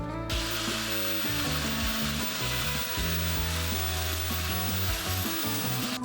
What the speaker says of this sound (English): I have the angle grinder in this fit for cutting these tiles